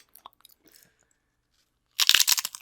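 Crunching bites of a corn snack, a burst of loud, close crackling that starts abruptly after about two seconds of near silence with a few faint small noises.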